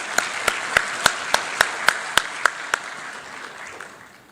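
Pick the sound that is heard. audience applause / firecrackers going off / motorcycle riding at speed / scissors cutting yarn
audience applause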